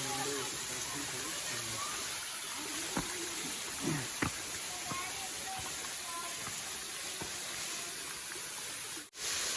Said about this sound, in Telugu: ఇదే వాటర్ ఫాల్స్.